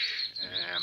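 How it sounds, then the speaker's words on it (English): Birds chirp in a cloudy morning after overnight rain, a bright warbling call repeated several times in under a second, close and clear, with no voices. "Nice sound of birds to wake up there."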